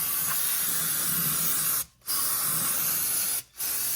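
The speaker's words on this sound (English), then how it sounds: "So I'm going to spray off the underside of the engine here where it's pretty oily" A steady, close hiss of spray washes the oily underside of an MG Midget engine, cut by two short pauses before resuming at the same loud level.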